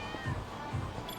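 A cat meows in the video game Lost Judgment, a short repeated low-pitched call heard a few times over steady background game music and ambience.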